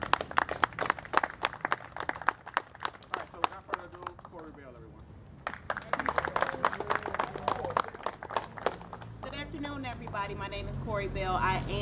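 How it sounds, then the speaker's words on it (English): A small audience at a Chicago comedy event against violence applauds the comedians with scattered, uneven clapping that rises and fades while a voice speaks over it. "if everyone can give a hand of applause to these comedians for stepping forward"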